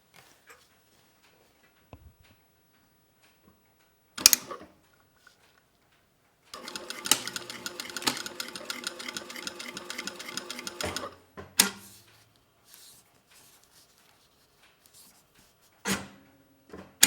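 A sewing machine stitches a 7 mm seam allowance on a fabric tarot card case in one burst of rapid, close mechanical ticking lasting about four seconds, framed by a few isolated clicks and knocks in near silence.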